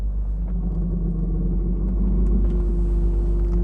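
A car with a homemade exhaust idling and steering, a loud, deep continuous rumble with a steady low droning hum, close and alone.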